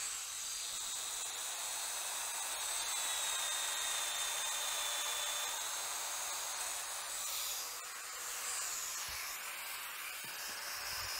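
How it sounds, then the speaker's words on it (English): A Festool Domino joiner with a 10 mm cutter plunging holes into a wood slat, a steady high motor whine and cutting hiss held for about ten seconds, close and continuous, with a brief dip near the end. "I can start routing."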